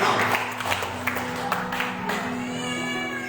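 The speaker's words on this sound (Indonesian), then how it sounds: "Sekali lagi kita berikan tepuk tangan kepada ketua kita" An audience at a men's fellowship retreat applauding their chairman, a burst of crowd clapping strongest at the start that thins and fades as a steady sustained tone carries on underneath.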